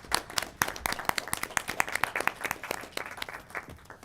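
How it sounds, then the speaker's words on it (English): Applause from a group at a city council strategic planning workshop, a steady patter of many hands clapping for about four seconds, moderately loud in an indoor room. "let's give our everyone a round of applause"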